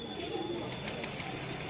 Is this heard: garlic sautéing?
no